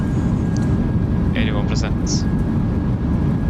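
A PMDG 737-800 in Microsoft Flight Simulator 2024 roars loudly and steadily as its thrust reversers deploy during landing, a dense low rumble running throughout, with a voice speaking briefly over it.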